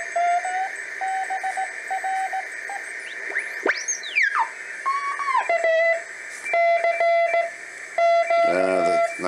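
Morse code CQ calls picked up on a homebrew HRO-style receiver, with steady beeping tones over a hissing band, sweeping whistles as the tuning moves, and several stations keying at different pitches.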